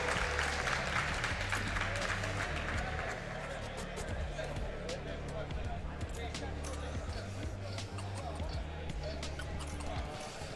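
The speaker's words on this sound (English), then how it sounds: "Everyone, please give a round of applause for these players." An audience applauds players at a school Valorant esports grand final, steady clapping from a crowd in a hall with a few sharp thuds and murmuring voices underneath.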